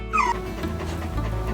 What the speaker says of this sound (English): That's a happy dog there.